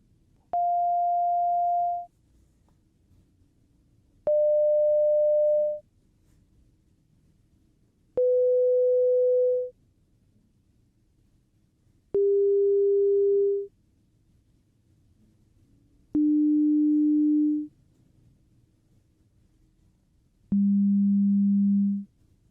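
Six pure sine tones from a hearing test in a cranial nerve exam, each about a second and a half long with pauses between, stepping lower in pitch one after another, clean and steady against a quiet background.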